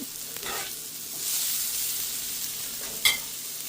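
Broccoli sautéing in olive oil in a pan, a soft continuous sizzle that swells briefly in the middle, followed by a sharp stir or clink near the end.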